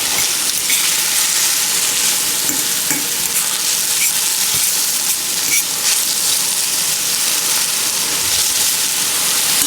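Spinach wilts in a frying pan alongside salmon, giving a loud, steady, close sizzle with a constant hiss and faint stirring scrapes, with no voices.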